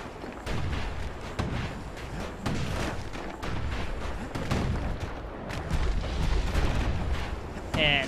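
Gunfire in the video game Bastion aimed at the player: a dense run of sharp, loud shots and booming impacts repeating through the whole stretch, layered over game music and effects.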